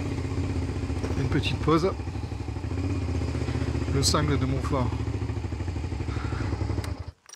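A motorcycle engine runs steadily close by on a stop near the Cingle de Montfort in the Dordogne, its low hum continuing under a voice before it drops away at the end.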